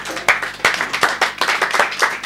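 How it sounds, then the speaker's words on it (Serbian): An audience claps for a band at a hotel in Novi Sad, a short burst of scattered, uneven hand claps close by, with a few louder individual claps standing out. "Aplauz za njih, molim vas."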